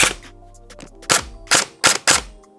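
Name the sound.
SSR4 Mk2 airsoft sniper rifle shot, trigger pressed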